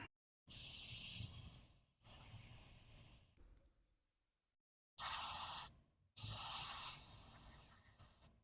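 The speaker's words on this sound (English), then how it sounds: "So I'm going to use a little bit of carb cleaner." Carb cleaner sprayed onto a Homelite string trimmer carburetor in several sustained hissing bursts, close and loud, separated by brief silent pauses.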